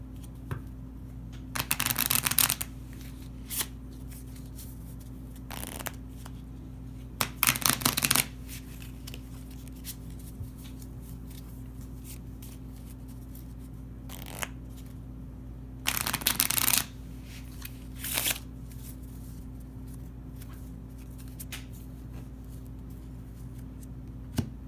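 Playing cards being shuffled for an Exploding Kittens card game in several quick riffling bursts, separated by pauses and quieter handling sounds, close by with a steady low hum underneath.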